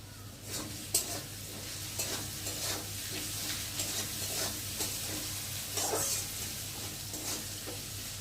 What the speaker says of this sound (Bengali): আলুটা ভালো করে একটু ভাজা ভাজা হবে।